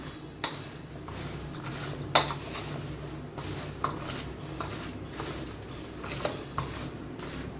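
Raw mango pickle being mixed in a bowl, with soft squishy stirring and occasional light clinks against the vessel, close and irregular.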